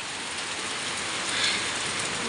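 Steady rain from a typhoon hisses in a dense, continuous wash of patter, even and unbroken, with no voices.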